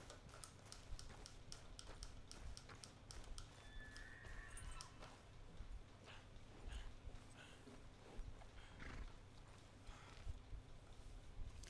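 Horse sounds in Red Dead Redemption 2: quiet clip-clop of hooves with occasional neighs over a low game ambience, faint and continuous without talk.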